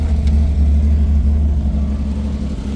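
A 1964 Corvair Monza 110 sits in neutral with the parking brake set, its engine idling on its own. The idle is a loud, steady low rumble heard close up, with no speech.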